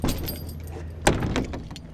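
A bunch of keys jangles and clinks briefly at close range, with one sharper metallic rattle standing out amid faint outdoor background noise.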